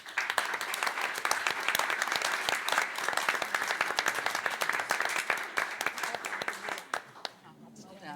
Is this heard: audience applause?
yes